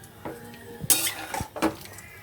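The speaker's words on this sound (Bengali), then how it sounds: "এবার খুব ভালো করে নাড়াতে থাকবো" Plain bone-in chicken pieces stirred in a pan, giving a few distinct scraping clinks of a spoon against metal with faint sizzling between, close and alone.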